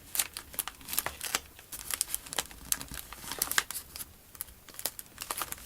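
Dollar Tree scrapbook paper being trimmed along its edge for a Christmas journal page, heard as close, quiet crinkling and snipping with irregular crisp ticks throughout, no talking.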